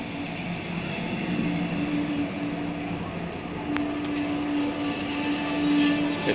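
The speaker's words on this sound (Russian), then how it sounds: "Поезд S1." The S1 train from Bad Schandau to Dresden makes a steady interior rumble and hum throughout, with a faint sustained tone and a couple of brief clicks partway through.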